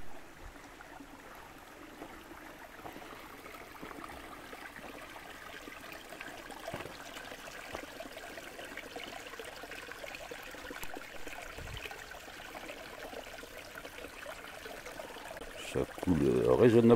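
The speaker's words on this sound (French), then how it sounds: "ce bruit de l'eau, moi, c'est ce que je préfère par-dessus tout" Water trickles steadily in a small stream, a soft continuous babble that runs quietly throughout, with a brief louder splash near the end.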